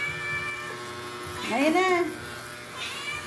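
A pet cat meows at feeding time as its food is set down indoors, with one clear, rising and falling meow close by, and a person talking around it.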